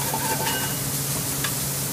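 Mushrooms sauté in oil in a pan with a dense, steady sizzle that fills the space evenly and up close, with no talk over it.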